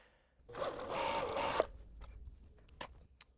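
A sewing machine stitches bias-cut fabric pieces in one fast, even whirring run of about a second, then stops, followed by a few faint ticks and clicks, no talking.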